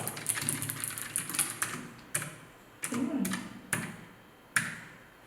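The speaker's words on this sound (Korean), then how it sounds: "일단 이 제품은 기계식 키보드예요" Keys on a Bluetooth mechanical keyboard clack in a quick burst of typing, then slow to a few separate, sharp presses spaced apart.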